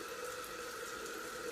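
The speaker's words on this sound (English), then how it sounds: "now I'm just pulling it out of all the water out of my brushes" Water is squeezed and wrung from makeup brushes, giving a steady, soft wet rushing and trickling that runs unbroken at low level with no talk.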